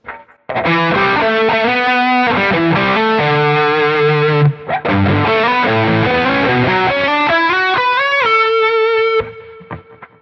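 Distorted electric guitar playing chords and melodic lines through a Quad Cortex with a dual-delay doubling effect, slightly chorused shimmer, loud and sustained, ending on a ringing note.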